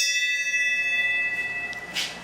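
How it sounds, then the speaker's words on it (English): A bell rings out with a clear sustained metallic tone that slowly fades, followed by a faint soft knock near the end. "I'm gonna have to ring the bell my own self."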